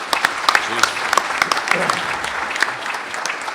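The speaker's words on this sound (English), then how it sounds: "So if you'll give him a round of applause." Audience applause for a moderator at a submarine cable conference session, dense and steady clapping with a voice speaking briefly over it.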